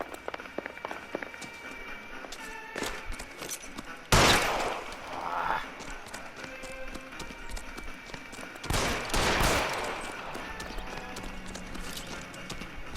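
Gunfire from the L.A. Noire video game, with two louder bursts of shots rising over a busy, rattling background of game noise and hoofbeat-like clatter, fairly distant and mid-level in volume.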